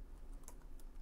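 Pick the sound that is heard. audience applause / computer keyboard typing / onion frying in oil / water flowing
computer keyboard typing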